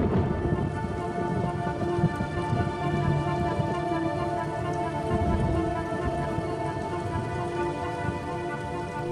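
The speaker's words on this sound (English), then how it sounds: "the rains continue to fall in a ceaseless torrent" Heavy rain falls in a steady, dense downpour, hissing and pattering on surfaces without pause, with faint thunder-like rumbles underneath.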